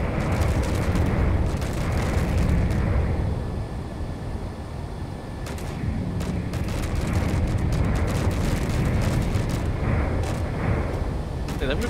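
Heavy gunfire and explosions pound away in a space combat video game, a dense, continuous barrage of booms and rumbling blasts that stays loud throughout, dipping briefly midway, with a voice talking over the battle.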